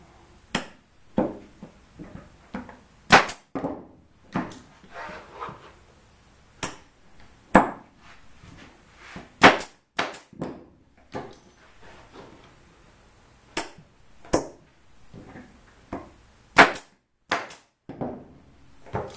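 A staple gun fires while canvas is stretched over a frame with grabber pliers. Sharp, irregular snaps come in quick pairs and singles, mixed with softer handling clicks and rustles, and nobody talks.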